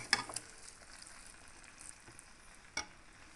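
Vegetable noodles stirred in a hot pan, a quiet soft sizzle with a couple of sharp utensil clicks against the pan at the start and near the end.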